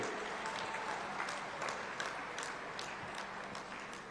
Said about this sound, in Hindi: बहुत जोर से तालियां बजाकर माननीय प्रधानमंत्री जी का, माननीय मुख्यमंत्री जी का अभिनंदन कीजिए